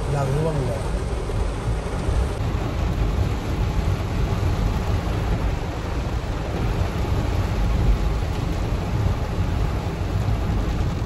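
Heavy, long-lasting rain falls steadily as a dense, continuous hiss with low rumbling beneath, constant and close throughout, while people talk over it.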